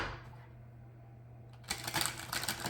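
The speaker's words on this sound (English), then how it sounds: "you want me to shuffle once." A deck of tarot cards is shuffled during a card reading: after a quiet stretch of low room hum, a brisk, crackling riffle bursts in close to the microphone and fills the last second.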